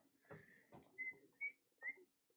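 A few short, high whistle notes sound quietly, one after another, over low murmuring voices in the background.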